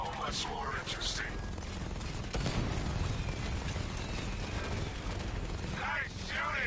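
Gunfire in a Batman video game, a dense continuous rattle of shots and blasts filling the whole stretch, with a voice speaking briefly at the start and again near the end.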